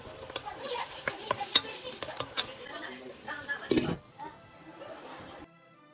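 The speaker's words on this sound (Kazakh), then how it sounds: "Қатылау отта қуыра бересіз." Chicken breast sizzles and fries over high heat in a pan, with close scraping stirs and utensil clatter over a steady frying hiss that quiets toward the end.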